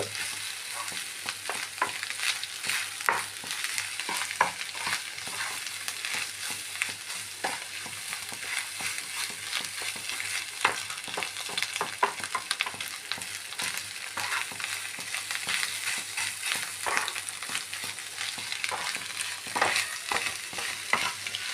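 Food frying and sizzling steadily in a pan while being stirred and mixed with ground coriander, with a continuous crackle and frequent scraping strokes close by, no voices.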